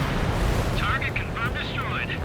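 Missile explosions destroy a target in the combat flight game Ace Combat 7, a dense roaring rumble with jet-engine wash that stays loud throughout while a radio-style voice talks over it.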